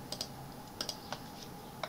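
Light typing on a computer keyboard while entering equations in Mathcad 14, a few quiet scattered key clicks in short pairs and singles against a faint room hiss.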